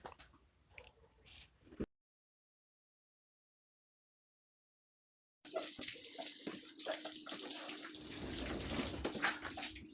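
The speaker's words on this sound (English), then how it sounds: "so now I'm rinsing" Water spray rinsing a car hood, a steady broadband hiss that cuts out briefly and then returns stronger and continuous, close and fairly loud.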